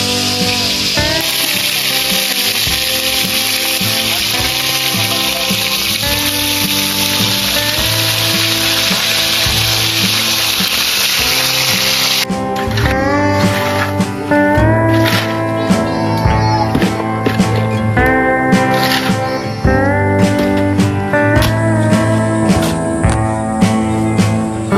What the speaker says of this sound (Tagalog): Ito, nagpiprito muna si Ate Grace.